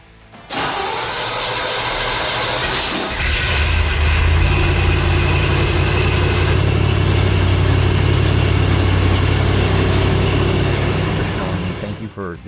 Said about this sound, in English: we'll fire it up and I'll show how those lights work.